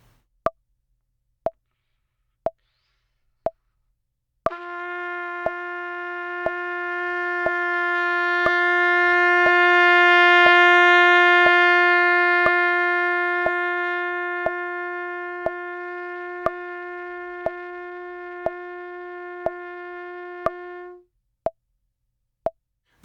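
A trumpet holds one long tone that starts soft, swells to loud and eases back, with steady metronome clicks ticking before, under and after the note.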